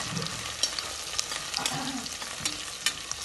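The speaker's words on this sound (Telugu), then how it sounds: "ఇప్పుడు మనం ఆనియన్ని గోల్డెన్ ఫ్రై వచ్చే వరకు వేసుకోవాలి." Sliced onions fry and sizzle steadily in hot oil for a Karnataka-style chicken biryani, with close stirring clatter and a few sharp spatula knocks against the pan. No one speaks.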